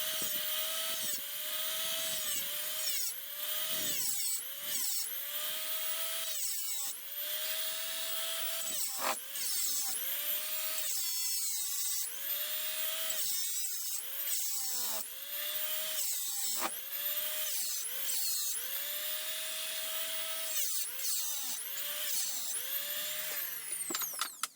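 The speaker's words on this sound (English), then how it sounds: "I'll just throw this in my little vise down here and just have a little bit of a go at it with the flat wheel" A flap wheel grinds an aluminium part clamped in a small vise, a loud whining tool running nearly continuously in repeated passes, its pitch dipping and recovering as it bites into the metal.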